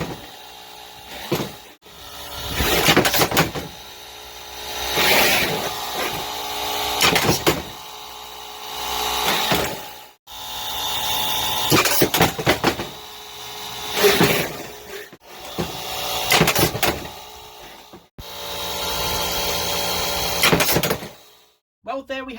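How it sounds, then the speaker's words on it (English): A combat robot's compressor-driven pneumatic system runs through a test in a series of loud mechanical bursts, each lasting a few seconds and separated by short silent gaps, before stopping abruptly at the end. "The compressor system was able to produce enough power to flip"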